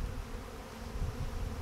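During a honeybee hive transfer, a close, steady low buzz of many bees hums for a short moment with no voices.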